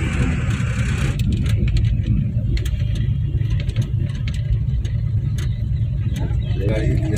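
A Maruti 800 car is driven with its engine humming steadily at a medium pitch, loud and constant, under ongoing conversation inside the car, with occasional clicks and knocks.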